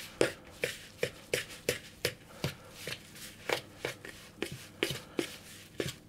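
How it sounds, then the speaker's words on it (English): Rhythmic scraping and slapping of a utensil stirring dough in a bowl, with about a dozen regular strokes close up and no talking. "And I'm going to stir that around."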